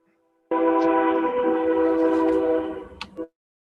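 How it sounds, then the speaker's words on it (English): A train goes by outside, a steady loud blaring horn-like tone with stacked harmonics that holds for about two seconds, then fades and breaks off, heard alone with no talk. "Someone's got a train going through."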